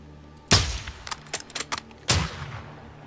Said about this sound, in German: Mist, er hat einen Schuss gehört.